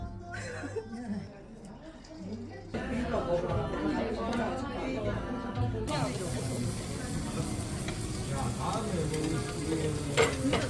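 A spoon stirs mulled wine with fruit simmering in a pot, a soft scraping and bubbling sizzle under lively chatter as people talk nearby in a home kitchen.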